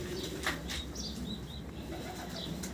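A racing pigeon from France, hatched in 2012, gives faint quiet coos and soft fluttering, heard up close in a calm, low-level setting.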